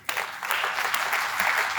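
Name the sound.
church congregation applauding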